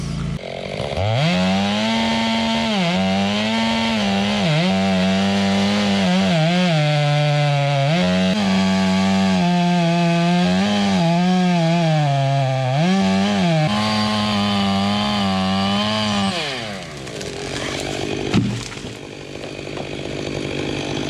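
A 362 chainsaw cuts a tree from a lift basket. Its engine runs loud and close for about sixteen seconds, its pitch rising and dipping with each push into the wood, before it drops to a brief idle.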